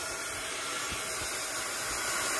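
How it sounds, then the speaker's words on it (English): A steady, loud rush of blowing air from a heat gun drying a mixed media mask, running without pause, a broad continuous hiss close by. "So I am drying it with my heat gun."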